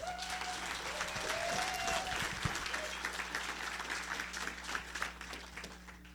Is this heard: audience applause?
yes